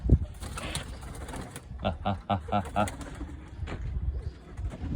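Pigeons coo in a series of soft, low, rhythmic calls close by, and a few wingbeats may be mixed in. A voice speaks at the start and again near the end.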